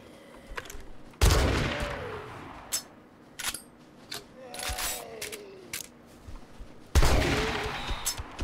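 Gunshots in the survival video game 7 Days To Die: two loud booming shots spaced several seconds apart, with reload clicks and handling noises between them.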